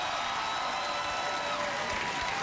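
Studio audience applause on a late-night talk show, a steady wash of clapping and light crowd noise throughout, moderately loud with no distinct voices on top.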